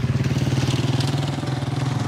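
A motorcycle engine putters with a steady, throbbing rhythm as it moves through a village on Zanzibar, fairly close and loud for the whole stretch.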